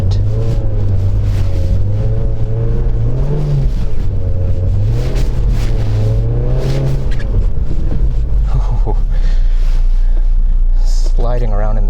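A rear-wheel-drive 2008 Mazda MX-5 GT (NC) sliding through a snow storm gives a loud, close engine drone whose pitch rises and falls as the throttle changes, ending in a deeper rumble.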